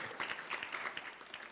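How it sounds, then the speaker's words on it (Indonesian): Applause at a Jakarta high school film festival, a brief burst of scattered clapping from the audience, moderately loud and uneven, with no speech over it. "Tepuk tangan dong sekali lagi dong"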